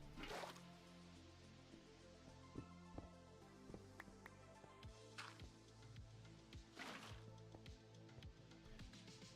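Water placed beside farmland in a Minecraft ATM 9 modpack world gives faint, soft drips and splashy trickles scattered through a quiet background.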